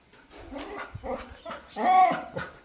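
A dog barks in a series of sharp, irregular yaps and woofs at a village house in the countryside, fairly close and loud, with no talking over it.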